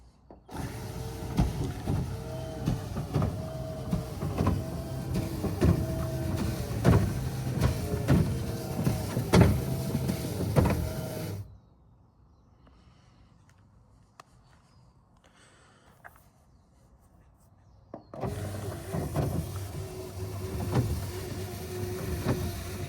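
The powered rear tonneau cover on a 2022 Rivian R1T runs with a steady electric motor whir and faint rattling for about eleven seconds, stops into near silence, then starts whirring again.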